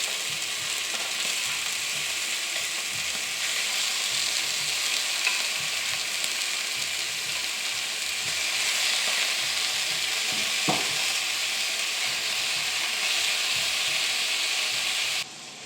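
Sausages for rougail saucisse browning in a hot pan, giving a steady, dense sizzle and crackle that runs unbroken throughout, with an occasional faint clink of a utensil.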